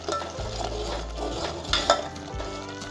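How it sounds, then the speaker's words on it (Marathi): Tomato paste for chhole is stirred and roasted in a pan. A spoon scrapes repeatedly against the metal over a soft continuous sizzle, with a few light clinks, and no one speaks. "टोमॅटोचा कच्चापणा जाईपर्यंत छान भाजून घेऊया"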